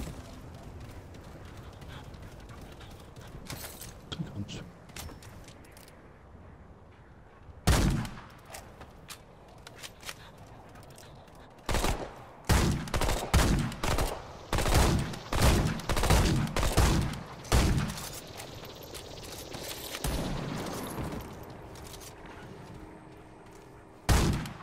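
Gunfire in the video game Remnant 2, with sparse shots early on and then a dense run of sharp, loud reports from roughly the middle onward, fired in irregular rapid volleys.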